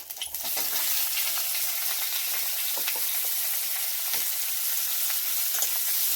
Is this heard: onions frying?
yes